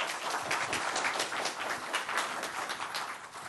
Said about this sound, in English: one final applause for John here